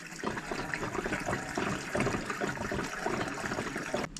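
Petrol pours from a can into the fuel tank of a Peugeot 205 GTI, a close, continuous gurgling splash of liquid with small fluctuations, faint and steady with no talk.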